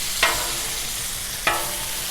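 Thin bacon frying on a Blackstone griddle gives a steady close sizzle and crackle, with two sharp clicks or scrapes of a spatula against the flat top.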